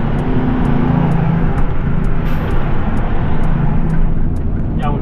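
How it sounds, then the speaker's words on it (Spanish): A tractor-trailer truck descending a mountain road with engine brake and retarder engaged gives a steady, loud low-pitched drone, continuous throughout with road and wind noise. "Y aún así van frenando con freno de motor"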